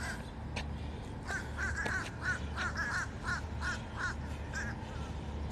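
Crows caw repeatedly in the early morning, a run of about a dozen evenly spaced harsh calls at moderate distance over a steady low background hum.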